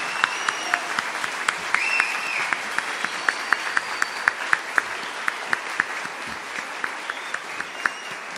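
Applause from a crowd at the close of a Missa Crioula, a Creole-style mass at a gaúcho peões cultural gathering, as a steady dense patter of many hands with a few sharper claps standing out, continuing evenly throughout.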